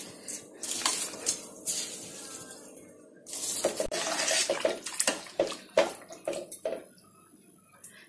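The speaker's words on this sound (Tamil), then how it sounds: "தண்ணி நல்லா கொதிக்குது, நீ அரிசியை சேர்த்திடலாம்" Washed rice poured into a pot of boiling water while cooking egg biryani: splashing, watery bursts and clinks of a metal pot and utensil come in irregular clusters, close and moderately loud, separated by quiet gaps.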